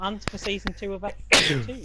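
A single short, sharp sneeze from a nearby person, coming right after a brief spoken phrase.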